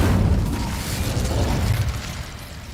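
Incendio fire spell in a Harry Potter mobile game, a dense rumbling whoosh of flame that stays loud and steady for nearly three seconds, with no talking.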